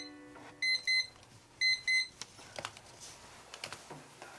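Countdown timer alarm beeping in two paired bursts of short, bright electronic tones, followed by faint clicks and light handling noise.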